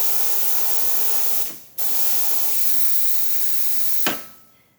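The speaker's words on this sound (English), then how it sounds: "It's very powerful steam wand, so we're going to use this canteen." Loud, steady steam hiss from a La Spaziale Lucca espresso machine's steam wand that cuts out briefly, resumes, then ends with a sharp burst and a fading sputter.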